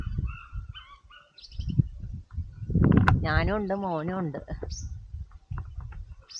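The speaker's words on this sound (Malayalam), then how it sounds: "ഇവിടെ ഫുള്ള് കിളികളുടെ സൗണ്ടൊക്കെ കേൾക്കാം." Birds chirp and call on a cold morning at Heaven Valley hill resort in Vagamon. Faint high tweets run under nearby talking, with one louder warbling call in the middle.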